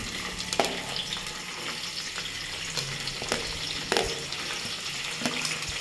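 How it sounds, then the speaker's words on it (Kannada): Curry leaves and onion frying in oil with mustard and cumin for pulao: a continuous crackling sizzle with scattered spatters and faint clinks, heard alone. "ಕರಿಬೇವು ಹಾಕ್ತಾಯಿದ್ದೀನಿ ಇವಾಗ ಈರುಳ್ಳಿ"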